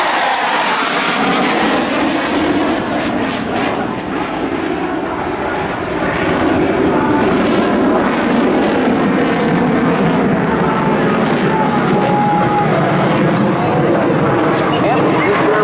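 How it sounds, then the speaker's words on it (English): An F/A-18C Hornet jet roars continuously and loudly through a double Immelmann at an Air National Guard air show in Rhode Island, its broad engine noise steady throughout while an announcer talks over it. "here comes the Hornet, double Immelmann."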